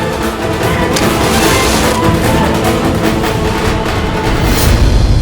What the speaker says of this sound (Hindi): धमाका जोरदार